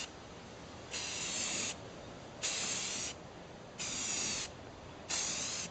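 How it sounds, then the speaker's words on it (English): Four steady bursts from a spray paint can coating aluminum wheels, each hissing for under a second with short pauses between, close and even in loudness. "I'm going to spray everything up"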